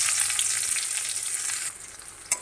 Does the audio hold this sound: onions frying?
yes